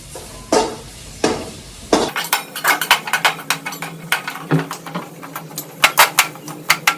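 A spoon scrapes and stirs mawa with cardamom in a pan after the heat is switched off, giving rapid, close, rhythmic metallic clinks and scrapes.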